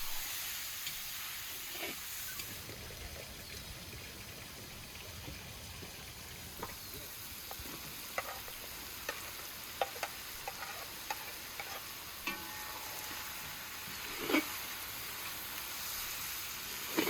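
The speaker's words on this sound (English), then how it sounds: "I don't forget to stir occasionally because the fire is strong" Food sizzles steadily in a pan over a strong outdoor wild-cooking fire, with a constant hiss broken by scattered ticks and pops and occasional scrapes of stirring, and no voice.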